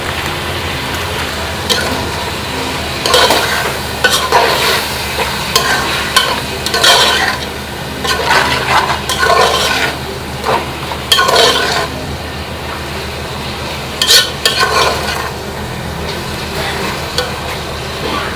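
Minced beef seasoned with ginger powder sizzles steadily in a pan over the fire, with repeated scraping bursts as it is stirred and tossed, close and moderately loud with no talking.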